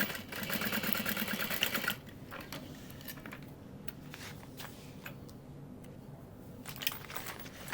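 A sewing machine top stitching through a folded tote bag exterior and interfacing, a steady loud mechanical whir for the first two seconds, then quieter needle taps and clicks.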